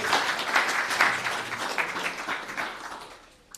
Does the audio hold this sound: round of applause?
yes